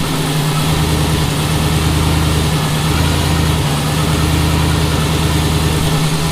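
An LS-swapped engine in a Nova or Camaro idling, loud and close, a steady low rumble with slight pulsing and no talking.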